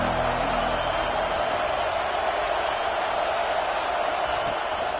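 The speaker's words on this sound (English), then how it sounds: "This crowd bringing an ear-splitting welcome to their visitors." A loud stadium crowd at a football game roars in a dense, sustained wash of cheering, broad and steady throughout with no breaks.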